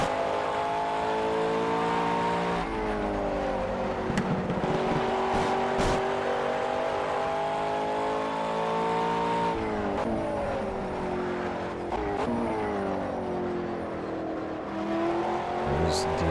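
A race car engine in Project CARS roars steadily at high revs, its pitch rising and dipping with gear shifts, loud and close throughout with occasional voices underneath.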